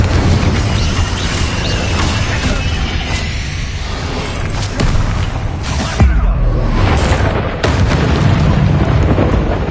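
Bombarda and Confringo spell explosions in Hogwarts Legacy, a dense, continuous barrage of booming blasts and crackling bursts filling the whole stretch at high loudness, with a few sharper impacts standing out.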